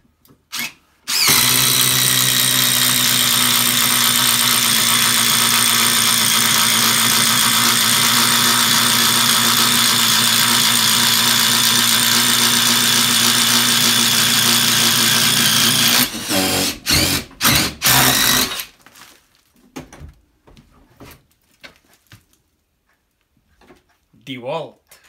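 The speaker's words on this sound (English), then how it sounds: "Same drill bit, same bit of wood." A DeWalt cordless drill runs continuously for about fifteen seconds, boring into wood with a loud steady whine, then stops with a few brief clunks.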